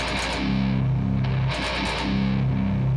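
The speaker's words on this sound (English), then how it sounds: "if I didn't mute the strings after I played a breakdown" Heavily distorted electric guitar plays a metalcore breakdown of loud low chugs, with the strings left unmuted so the notes ring out and sustain between hits, steady and close with no talking.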